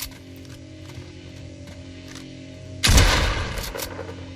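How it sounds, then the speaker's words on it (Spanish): A shotgun fires once in Fortnite, built in UEFN: a sudden loud blast after a quiet stretch of steady game hum, ringing out briefly with a rattling tail. "Ahora la escopeta."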